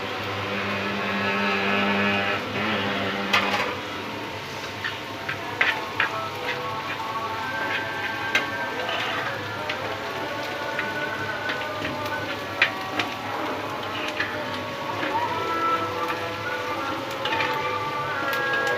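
Shutki, dried fish, frying in hot oil in a pan. The steady hissing sizzle carries on throughout with occasional sharp pops and crackles, and no one speaks.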